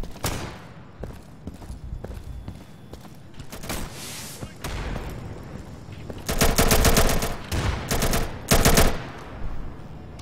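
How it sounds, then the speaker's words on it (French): Gunfire in the Insurgency video game, with scattered loud single shots early on giving way to rapid, close bursts in the second half, and someone talking faintly underneath. "J'aimerais bien tester mon fusil à pompe quand même."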